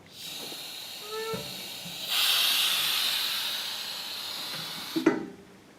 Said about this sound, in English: Opening the outlet valve.